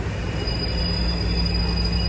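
A Class 56 freight train slows to a stop at Burton-on-Trent, producing a steady rumble with a sustained high squeal from the wheels and brakes that sounds fairly close.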